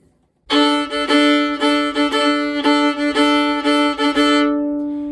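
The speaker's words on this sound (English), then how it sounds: "Another variation that you can play on the first part is the shuffle bow." A fiddle plays a steady shuffle bowing rhythm on the fiddle tune "Soldier's Joy", short rocking strokes repeating on the same notes for several seconds, bright and close.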